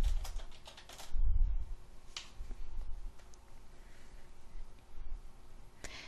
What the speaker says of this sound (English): in B3, we will type in the corresponding symbol